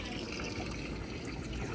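Water running steadily outdoors on a strawberry farm, a continuous close trickling rush that stays even from start to finish.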